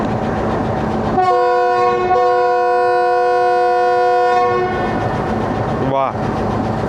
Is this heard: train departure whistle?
yes